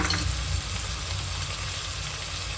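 Masala frying with fresh coriander in a pan for basmati rice biryani, a steady close sizzle with soft stirring, continuous and even throughout with no talk.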